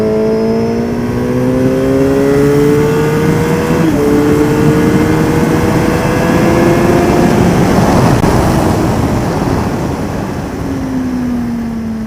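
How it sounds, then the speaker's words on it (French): A race car accelerates hard out of a corner at the Le Vigeant circuit, its engine note climbing steadily and staying loud and close throughout, with gear changes punctuating the rising pitch. "Et on réaccélère."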